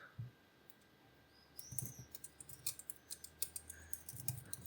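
Quiet keystrokes on a computer keyboard as a git checkout command is typed, a brief click early on, then a steady run of light, rhythmic taps.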